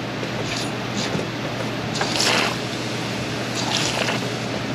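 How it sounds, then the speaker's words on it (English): Fluid spraying and splashing as a car AC evaporator from a Pontiac Firebird is reverse flushed, a steady broadband hiss with brief louder bursts of spray, continuous throughout. "We're gonna go backwards through the evaporator and reverse flush this."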